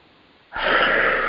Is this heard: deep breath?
yes